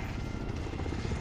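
Helicopter rotor chop in a combat video game, a dense steady throbbing roar that is close and loud throughout.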